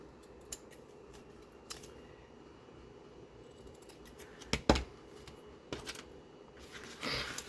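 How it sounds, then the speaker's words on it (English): Scissors snip through the edge of a paper journaling fold-out, giving a few short, crisp cuts spaced a second or so apart over faint room noise, ending in a brief rustle of paper. "Then we just snip off the edge."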